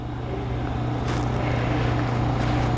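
The blower of a PSC 122M mask cleaner keeps running after the end of the process, producing a loud, steady mechanical drone with a constant low hum and broadband airflow noise.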